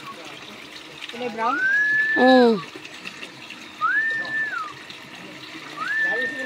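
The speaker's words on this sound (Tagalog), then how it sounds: "Ang lamig ng tubig dito, lumalabas galing sa bundok ko." Cold spring water flowing out of a mountainside at San Mateo, Rizal, a steady background rush beneath people talking and some high whistle-like tones.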